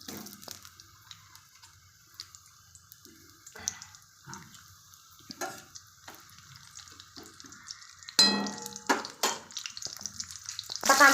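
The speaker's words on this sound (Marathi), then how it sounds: "आता कांदा मी तळायला घातलेला आहे" Onion sizzles in a pan as it fries for tempering matki aamti, with a quiet steady crackle broken by stirring clatter and louder bursts near the end.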